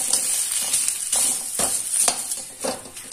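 Homemade khoa roasting in a pan while a spoon stirs it, with a steady soft sizzle and rhythmic scraping strokes about every half second, close and alone with no talk.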